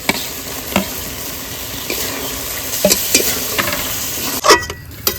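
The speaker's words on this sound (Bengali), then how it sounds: "ভালো করে কিন্তু পনিরটা কষিয়ে জল দিয়ে দিয়েছি" Paneer and fried capsicum are stirred in a pan with salt, sugar and a little sour seasoning, giving a constant sizzle broken by repeated scraping and clinking strokes of the spatula.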